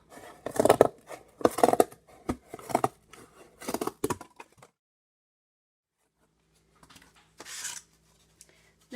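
Scissors snip through cardboard in several crisp, close cuts at a quick rhythm, then a pause of near silence before one more fainter snip and small rustling.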